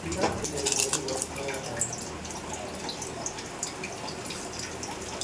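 Soaked basmati rice and its soaking water are poured into a pot for vegetable dum biryani, giving a close, splashy gush that is strongest at first and then settles into a softer trickle.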